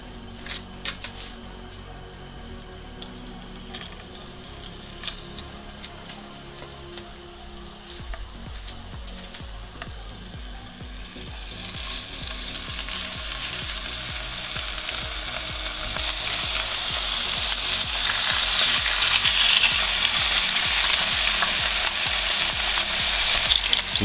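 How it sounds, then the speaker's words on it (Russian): A salmon fillet fries in olive oil in a hot pan. The low crackle swells partway through into a loud, steady sizzle that dominates to the end, with no one talking. "Ждем, пока нагреется хорошо сковородка, и отправим сюда филе лосося."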